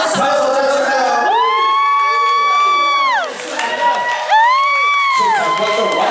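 A live audience at a concert-style event cheers loudly with rising, sustained vocal shouts, swelling in two long waves over a continuous crowd roar.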